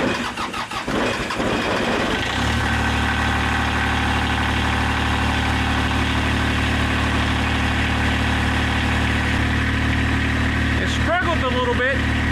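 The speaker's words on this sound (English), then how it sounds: "I'm going to go ahead and warm up the tractor, give it a few minutes to warm up" A tractor engine cranks and catches, then settles into a loud, steady low idle to warm up on a snowy day, with a brief higher whine near the end.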